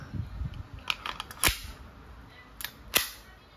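A KWC P08 Luger airgun fires, giving two sharp, snappy cracks about a second and a half apart, with smaller mechanical clicks of the toggle and handling around them, fairly close and without talk.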